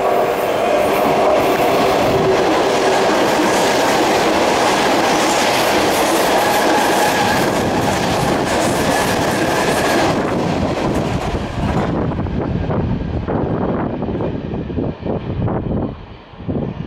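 An electric train roars through a station at close range with rhythmic clickety-clack, loud and steady, then tapers off as it clears the platform.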